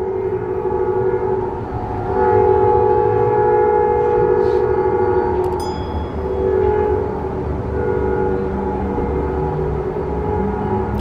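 Near a Tucson, Arizona hotel, a passing train drones loudly with held, siren-like horn tones over a constant low rumble that swells slightly midway and never lets up; no voices are heard.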